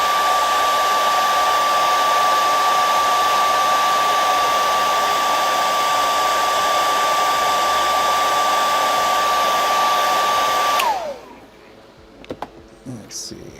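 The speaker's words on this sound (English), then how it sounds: "just hit this with a hair dryer and heat it up" A hair dryer blows steadily and loudly, heating a glued puppet part, a continuous whir with a high whine that winds down after about eleven seconds, followed by faint clicking and handling sounds.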